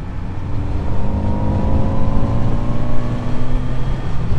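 A Kawasaki Z900 RS four-cylinder motorcycle engine runs loud and close with a dense, smooth roar, its pitch holding steady and rising slightly through the revs, with no voices.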